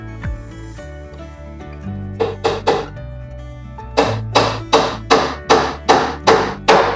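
Hammer blows drive a nail into wooden slats of a handmade carpenter's toolbox: a few scattered taps, then a steady run of about eight sharp, evenly spaced strikes, close and loud.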